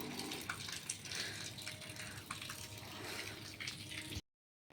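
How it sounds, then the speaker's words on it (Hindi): Water from a motor pump left running floods a rooftop, a steady broadband gush and splash that stays loud and continuous for about four seconds, then cuts off abruptly. "मोटर चला के भूल गए हम, तो पूरा छत भर गया है।"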